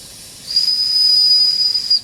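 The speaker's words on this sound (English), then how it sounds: "you can test it with the whistle" A Wilesco D6 toy steam engine whistle sounds a steady, shrill, high tone for about a second and a half over a soft background hiss of steam, close and loud, then cuts off.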